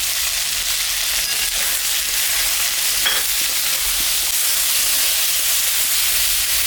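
Potatoes and edible flowers fry in oil in a pan with a loud, steady, close sizzle and a single brief clink midway; there is no speech.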